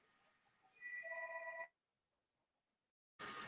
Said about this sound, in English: Phone is ringing. My apologies for that.